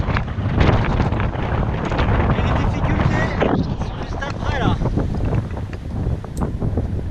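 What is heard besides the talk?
strong wind on a cliff while climbing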